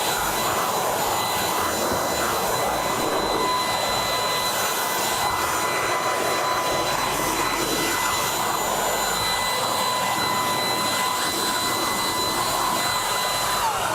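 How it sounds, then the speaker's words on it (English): Vacuum cleaner running steadily and close while cleaning a stairway, a loud continuous whine with high tonal hum, no talking. "So let's say we're actually done vacuuming for the day"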